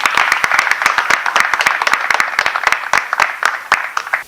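An audience claps together in a dense, lively round of applause, many hands striking at once, close and sustained for a few seconds.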